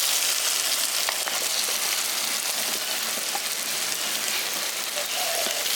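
Red and green capsicum sizzle steadily in hot masala in a village-style curry pan, a dense continuous crackle of frying at close range with faint stirring ticks and no voices.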